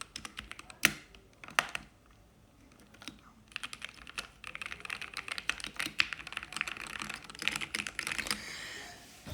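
Typing on a Corsair K70 mechanical keyboard gives bursts of sharp, close key clicks in an irregular rhythm, sparse at first and then a denser run of rapid strokes.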